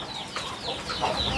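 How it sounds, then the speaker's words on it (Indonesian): A yellow hen on a small home farm clucks steadily at close range, her soft clucks running over faint background noise for about a second and a half. "mudah-mudahan aja ini si ayam yang kuning ini mau ya, mau bertelur di situ tuh"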